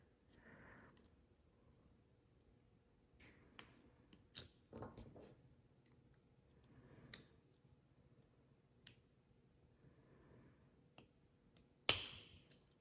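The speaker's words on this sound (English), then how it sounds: "That's the weld snapping open" Faint, sharp metallic pops and clicks spaced irregularly over quiet handling noise as spot welds snap open on a battery pack, ending with one louder crisp snap close by.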